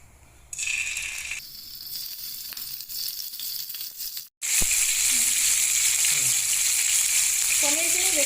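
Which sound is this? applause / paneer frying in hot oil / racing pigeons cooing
paneer frying in hot oil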